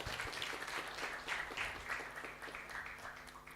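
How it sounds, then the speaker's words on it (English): Audience applause at an international bioprocess conference, steady clapping from a room of listeners that holds at a fairly faint, even level for a few seconds without speech. "Please give applause for the team."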